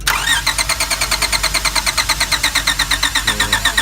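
A car's starter cranks the engine steadily with a fast, even pulsing whine throughout, loud and close, while a voltage drop is measured across the positive terminal to the starter, which appears to be loose.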